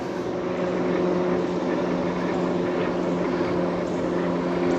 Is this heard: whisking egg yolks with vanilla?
no